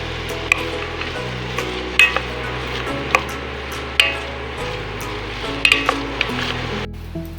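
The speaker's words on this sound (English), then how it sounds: "we're going to just stir and cook this a little until the onions have softened a little" Onions stirred and cooked in a pot for a vegetable chowder make a low sizzle under repeated scraping and clinks of a spoon against the pot, steady and close.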